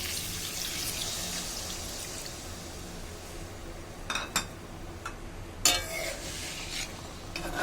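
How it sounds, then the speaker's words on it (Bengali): Water poured into a pan of mustard hilsa fish curry, a steady splashing stream with a couple of brief clinks partway through. "এবার আমি পরিমাণ মতো জল দিয়ে দেব।"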